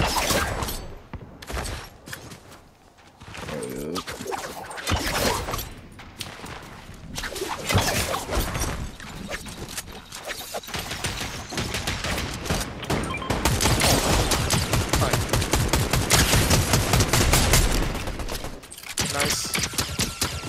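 Rapid bursts of gunfire in the video game Fortnite crackle throughout, dense and loud, with sharp cracks and whooshes layered in a chaotic continuous barrage.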